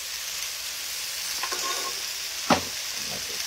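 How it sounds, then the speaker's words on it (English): Chopped onion, green onion and ginger sauté in a hot pan with a steady, close sizzle and a couple of sharp scrapes as they are stirred. No one speaks. "I'm going to let that saute, then I'm going to add my garlic."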